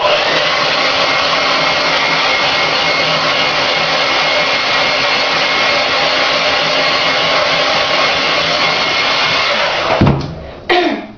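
A hair dryer blows steadily to dry bleach on facial skin, loud and close for about ten seconds before cutting off abruptly.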